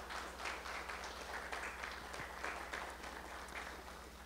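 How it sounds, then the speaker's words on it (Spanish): Audience applause at a journal launch event, a dense, continuous patter of many hands clapping at a fairly distant, subdued level, steady from start to finish without talk. "les demos un fuerte aplauso"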